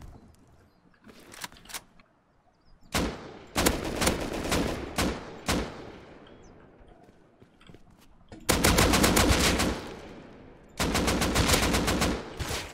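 Gunfire in the Rust video game: bursts of rapid automatic shots come in several loud clusters separated by short quieter gaps, ending in two long, intense volleys.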